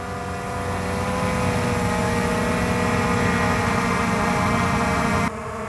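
Drone hovering steadily in the air, emitting a loud, constant propeller whine with tonal hum, close by and holding level before cutting off abruptly near the end.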